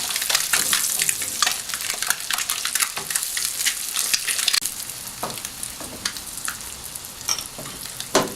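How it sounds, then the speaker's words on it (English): Ruby eggs frying in a pan, a steady crackling sizzle with bursts of spitting and stirring scrapes, close and fairly loud throughout. "slowly turn them around, so it's fried right the way around"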